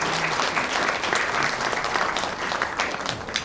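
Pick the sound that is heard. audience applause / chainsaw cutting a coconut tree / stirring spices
audience applause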